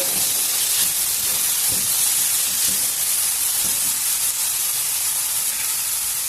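Potatoes fry in a pan with a steady, dense sizzling hiss throughout, with faint scraping from occasional stirring beneath it; no one talks.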